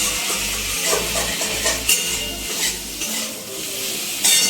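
Cabbage and a fish head being stir-fried in a pan, with a steady scraping, clinking stir of a utensil against the metal over a continuous sizzle, close and fairly loud, with no talking.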